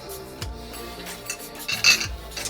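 A spoon stirs in a cup with a few quick metallic clinks and scrapes, close and clear, with no talking.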